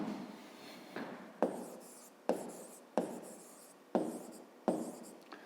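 Pen or pencil strokes on paper while working a fifth-grade maths exercise, a series of about seven short scratchy strokes in an irregular rhythm, close and quiet with no talking.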